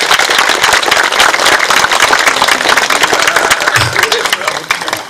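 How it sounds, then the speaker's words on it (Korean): Loud, thick clapping from a crowd at a 2023 Buddhist temple music concert in Icheon, a continuous roar of hands that holds steady and then starts to thin out near the end. "큰 박수 한번 보내 주십시오"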